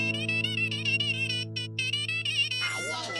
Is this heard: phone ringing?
yes